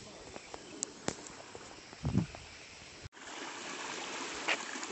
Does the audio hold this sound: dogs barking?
no